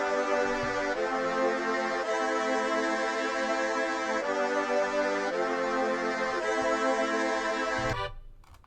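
Sustained synth strings and brass chords, pitched up and then back down, play for several bars in a steady block, each chord changing about every second, before cutting off and fading at the end.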